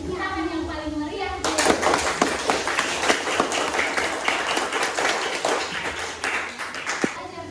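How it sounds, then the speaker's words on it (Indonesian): Classroom of students claps enthusiastically at the end of a lesson, a sudden burst of quick, uneven hand claps that starts abruptly after a quiet moment and carries on energetically, with children's voices mixed in. "kita kasih tepuk tangan yang paling meriah."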